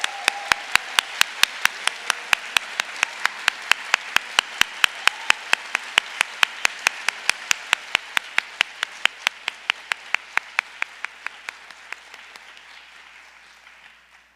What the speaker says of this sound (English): I think it would be nice if we could give a round of applause to staff and faculty.